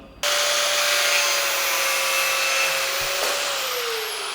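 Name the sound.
angle grinder cutting taped braided oil line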